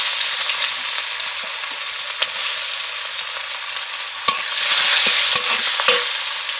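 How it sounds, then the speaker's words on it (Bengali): Chopped onion sizzles steadily in hot spiced oil in a pan for a meat dish with Malabar spinach stems, a continuous close frying hiss broken by a few sharp stirring clicks, with no talk. "তারপর আমি এর মধ্যে পেঁয়াজ কুচি দিয়ে দেব।"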